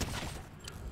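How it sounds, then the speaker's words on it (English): Exotic weapon in Fortnite firing sticky explosive projectiles, heard as a continuous rumbling fusillade of dull blasts and thuds in gameplay audio. "It's shooting bloody explosive things at them."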